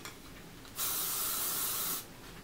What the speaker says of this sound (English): Definitely add a touch of hairspray.